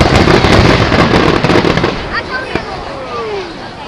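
Loud fireworks bursting in dense crackling volleys at a pyrotechnics display, a continuous wash of pops and bangs that eases slightly toward the end, with whistling trails rising and a sharp single burst near the close.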